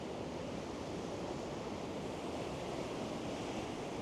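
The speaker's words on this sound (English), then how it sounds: "as you can see the waves are really crashing" Fierce waves crashing on the beach at Gorleston-on-Sea in high wind, a dense continuous roar of surf and gusts buffeting the microphone, steady and loud throughout.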